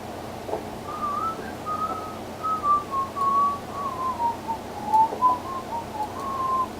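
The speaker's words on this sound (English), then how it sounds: "I'm actually really good at whistling." A person whistling a wandering, mid-pitched melody in short sliding phrases with brief pauses, fairly close and clear over a soft background hum.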